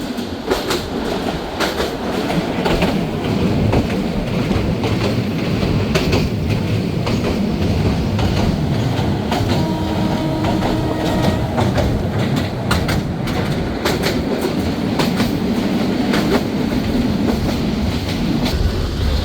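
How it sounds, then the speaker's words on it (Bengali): The Dolonchapa Express rolls into Badarganj railway station, a sustained close rumble from on board with rhythmic clickety-clack of wheels over rail joints and faint squeals throughout. "ট্রেনটি প্রবেশ করছে বদরগঞ্জ রেলওয়ে স্টেশনে"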